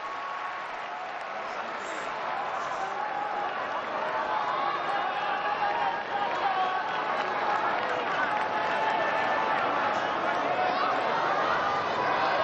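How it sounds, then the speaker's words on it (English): Home crowd at a Japan v Samoa rugby match, a steady, dense roar and buzz of many voices filling the stadium after a converted try, sustained and fairly even throughout, with commentary voices mixed underneath. "Well, it's certainly got the home crowd buzzing, hasn't it?"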